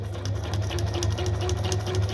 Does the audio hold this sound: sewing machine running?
yes